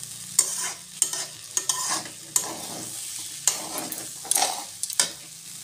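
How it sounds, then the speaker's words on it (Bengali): A breakfast mixture with boiled chickpeas fries in a pan, a soft sizzle broken by repeated sharp spatula scrapes and knocks against the pan at an uneven rhythm. "চলো ভাজতে থাকি।"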